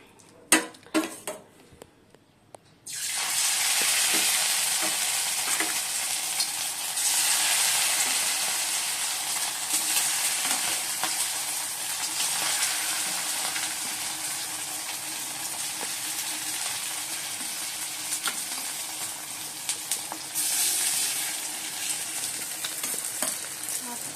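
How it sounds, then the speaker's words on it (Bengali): Marinated chicken pieces hit a hot pan and sizzle loudly and steadily, with occasional stirring scrapes, after a few brief clatters at the start. "এখন চিকেনগুলো এবার ভেজে নেবো"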